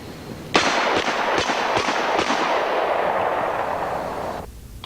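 A single sharp revolver handgun shot cracks loud and close, followed by a long rolling echo and reverberation that slowly fades, with a few faint clicks inside the decay.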